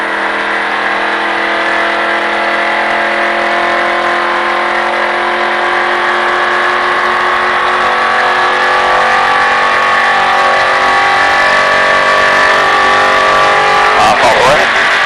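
A car engine runs steadily close by with a constant tonal drone, building slightly in pitch and loudness as throttle is applied, ending in a brief rough burst.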